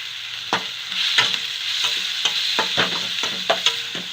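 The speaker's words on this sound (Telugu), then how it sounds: "అన్నీ వేసి బాగా వేయించుకుందాం." Onions, tomato, curry leaves and coriander fry in a hot pan, a steady broadband sizzle punctuated by repeated spatula scrapes and stirring knocks, close and fairly loud, with no talking.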